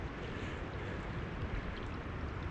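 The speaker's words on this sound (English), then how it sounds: "It's running water here today." A stream runs steadily among pine woods in New Hampshire's Musquash area in a rushing, broadband wash, continuous and fairly even, with no voices or other distinct sounds.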